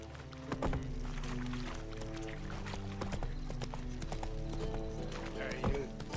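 Hooves of Roach, the horse in The Witcher 3, clip-clopping at a steady rhythmic pace under game music and some talk.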